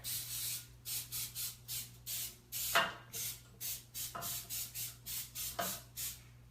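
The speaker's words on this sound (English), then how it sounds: "I'm just going to spray it with a little bit of coconut oil" Repeated short hissing bursts of coconut oil cooking spray onto a muffin tin in a steady rhythm, close by, with a few light knocks and scrapes between them.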